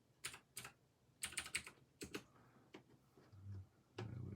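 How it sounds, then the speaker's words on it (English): Keys clatter on a computer keyboard in short bursts of clicks with pauses between them, close and fairly quiet, with no talking. "Let me just type."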